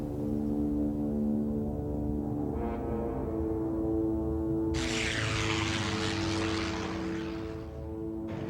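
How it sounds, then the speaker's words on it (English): A World War II Avenger torpedo bomber flies with a droning propeller engine, a steady loud roar that swells as it passes close overhead, with no talk. "In World War II, the Avenger was heralded as the world's best torpedo bomber"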